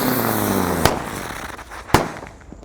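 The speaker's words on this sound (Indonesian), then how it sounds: "di sini ada mercon Teratator." Two Teratai firecrackers go off outdoors: two sharp, loud bangs about a second apart, over a steady crackling, hissing background that fades toward the end.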